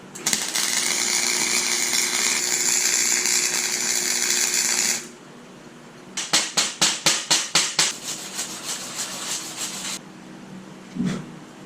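A Harbor Freight Fluxcore 125 flux-core welder runs a bead on quarter-inch steel plate with a loud, harsh, continuous crackling buzz for about five seconds. After a pause comes a rapid series of sharp metallic taps, and there is no talk.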